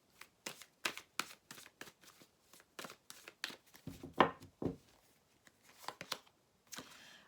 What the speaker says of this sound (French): Alors, on va prendre une carte maintenant pour le domaine sentimental.